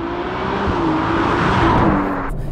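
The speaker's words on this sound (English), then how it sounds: "The sound of a Ferrari has been a big selling point since the beginning" A Ferrari 296 GTS engine hums and whirs steadily at close range, its tone rising slightly before easing off, with no talking over it.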